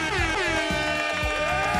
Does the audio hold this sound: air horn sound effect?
yes